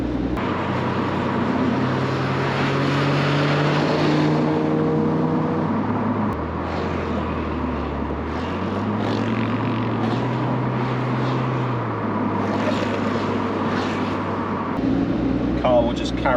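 A 1.6-litre Mazda MX5 Mk1 engine drones steadily while driving, its pitch rising and falling through gear changes, heard from inside the car under continuous talking.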